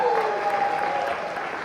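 Audience applauding a pianist at a theater gala, a brief steady patter of clapping from a moderate crowd with a voice speaking over it.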